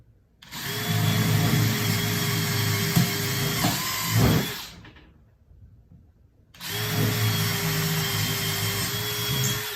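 A power drill bores quarter-inch holes into scrap wood for a screwdriver holder, a loud, steady whining run that bites in and winds down, a short pause, then a second sustained drilling burst.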